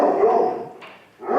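A black dog with brown feet barks twice, close and loud, one sharp yip followed by a brief pause and a second bark, in an adoption-shelter setting.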